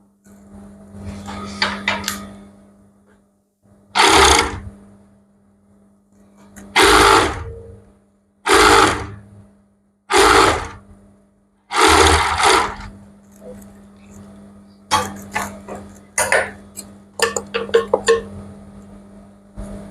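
Domestic sewing machine stitching the sleeve of a basic winter-sleeve top, running in a series of short loud bursts separated by pauses, with quieter handling sounds of fabric in between.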